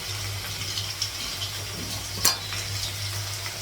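Vegetable curry of potato, beans and cauliflower cooking in a pan in a home kitchen, giving a steady low sizzle and bubbling with faint stirring and one sharp clink of a utensil partway through, with no talk.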